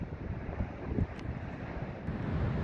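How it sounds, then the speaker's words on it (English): Big Pacific storm swell rolling in at Cape Disappointment on the Washington coast, a steady broadband roar of surf mixed with wind buffeting the microphone, with no voices. "Still some big waves coming in from the storms in the past week that were out there in the Pacific."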